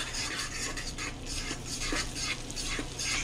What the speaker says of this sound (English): Stir it around with our fork.